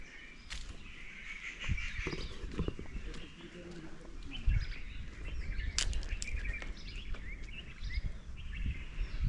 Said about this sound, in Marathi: दुसऱ्या पक्ष्यांचा आवाज येतो.